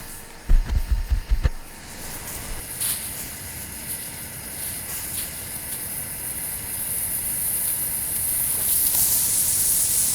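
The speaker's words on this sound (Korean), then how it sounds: "이번에는 압력 밸브 소리도 한번 들려줘 볼게요." Espresso pot (Essopot-style moka brewer) heating on a stove, its pressure valve giving off a steady hiss that slowly grows louder, after a few low thumps near the start.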